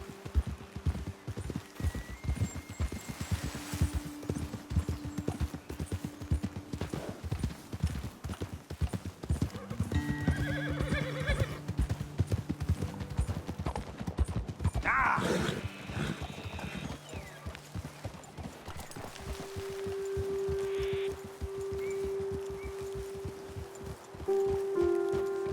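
Horses in the Red Dead Redemption 2 video game: steady hoof clip-clops on a trail with rustling brush and a whinny partway through, mid-distance, over a faint music bed and no speech.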